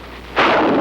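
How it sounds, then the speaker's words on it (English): A bazooka fires in a 1951 Korean War film, a single sudden loud blast that bursts in after a quiet moment and rolls on as a heavy roar. "The bazooka."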